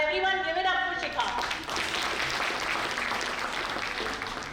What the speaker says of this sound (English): Everyone give it up for Shikha.